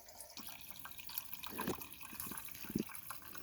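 Filtered water being poured into a pitcher for cold brew coffee, a soft, steady watery trickle with a few louder splashy moments near the end, heard close and alone with no talking.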